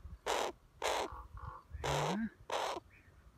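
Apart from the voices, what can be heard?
raven cawing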